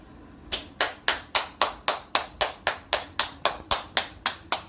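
Rapid hand clapping at a restaurant serving steamed king crab, with about fourteen crisp, evenly spaced claps close to the microphone after a brief quiet start and no speech.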